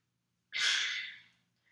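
A single deep, breathy inhale through the nose for a Kundalini yoga lung-cleansing breathing exercise, close and clear for about a second against silence.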